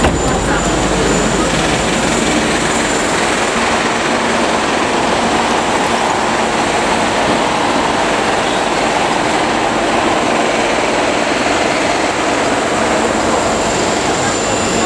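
A train moves through Hang Tuah rail station in Kuala Lumpur, a stop on the Ampang and Sri Petaling lines, with a loud, unbroken roar that fills the station from start to finish.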